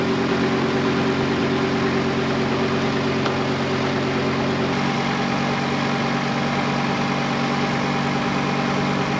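A Volvo 850 engine idles steadily with its accessory belt running while a possible alternator fault is checked, giving a loud, close, continuous hum that never changes and has no talking over it.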